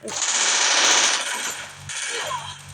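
Rapid automatic gunfire in a shooter video game as an enemy ambushes the player, a dense loud burst for about a second and a half, then a brief pause and a second volley.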